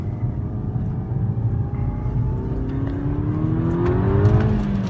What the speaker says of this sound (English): God, I like that exhaust note.